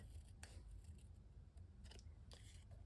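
Scissors snip through a paper banner for a handmade card, giving three short, crisp cuts that sound faint and close in a quiet room.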